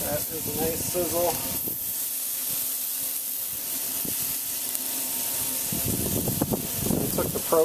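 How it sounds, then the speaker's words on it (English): Ribeye steaks sizzle loudly while searing on a grill, a steady broadband hiss that continues throughout, with someone talking over it at the start and again toward the end. "That is a nice sizzle."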